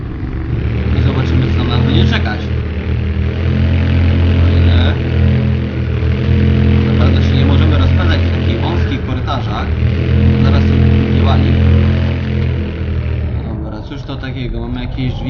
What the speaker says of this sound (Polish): Wjechaliśmy sobie motorkiem.